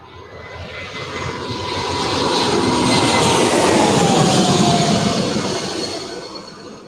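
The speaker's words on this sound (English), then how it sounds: "Right now we have Delta Airlines flight 2639. This is an Airbus A320." Delta Airlines Airbus A320 passing overhead as a broad jet roar that swells gradually to a peak mid-way, then slowly fades; no talking.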